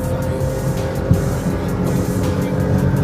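A Toyota Yaris speeds up hard on the road during a 0 to 100 run, its engine and tyre roar loud and close, one steady rushing drone with a brief bump near the start.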